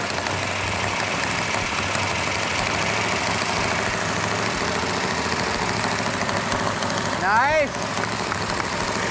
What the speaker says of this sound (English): Got a little bit noisy valve train,